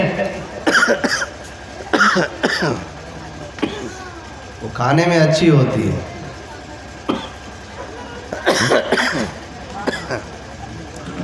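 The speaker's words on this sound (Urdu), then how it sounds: "دعا فرمائے کھانسی رک جائے." Several sharp coughs break up a man's speech at a religious gathering, coming in short bursts near the start and again toward the end, close and fairly loud.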